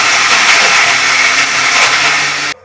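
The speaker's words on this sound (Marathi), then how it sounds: "बारीक करून घेते मिक्सरला" A kitchen mixer grinder grinds masala with tomato into a paste, a loud steady high whirring drone that stops abruptly near the end.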